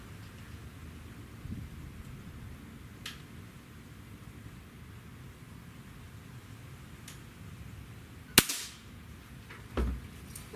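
A single sharp crack from a Beeman R7 air rifle being fired outdoors, short and fairly close, followed by a smaller thud a moment later against quiet background noise.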